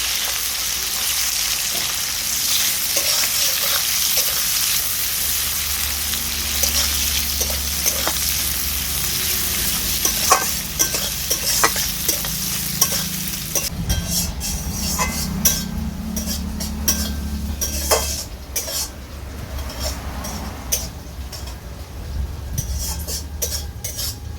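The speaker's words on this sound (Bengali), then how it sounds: "পেঁয়াজ কুচিটাকে আমি হালকা নেড়ে চেড়ে নিচ্ছি।" Chopped onion frying in oil in a pan for a rui fish curry, a loud continuous sizzle with frequent scrapes and clinks of a spatula as it is stirred, close up, with no talking.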